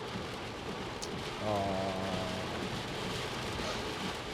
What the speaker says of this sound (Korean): 이렇게 빗소리가 많이 들어오는 상황이라서